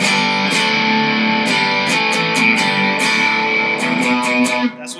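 Electric guitar through an overdrive pedal stacked with a Juggy boost pedal rings out with sustained distorted chords, loud and close, a few sharp picked attacks before the sound cuts near the end.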